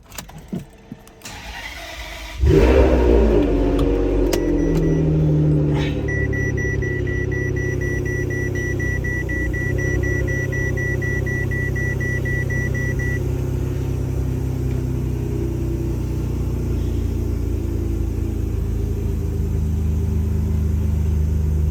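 A Ferrari 599 engine starts with a sharp burst and settles into a loud, steady rumbling idle, running up close with no talk as the car is brought forward onto ramps.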